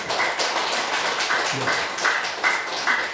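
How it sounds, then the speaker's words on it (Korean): A church congregation applauds four students who have just completed their confirmation and baptism questioning, producing a dense, steady wash of many hands clapping together at close range for the whole stretch. "우리 이 4명의 학생들을 위해서도 우리 한번 박수를 한번 합니다"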